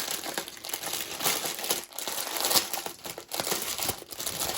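Plastic packaging around dental floss being crinkled and handled up close, a continuous busy crackling and rustling with a few sharper crunches, fairly loud and with no speech.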